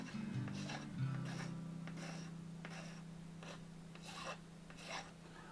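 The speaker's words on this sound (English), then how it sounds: "and then I file it" A metal file rasps in repeated strokes, about eight scraping passes at a steady rhythm, close and fairly quiet, over a low hum.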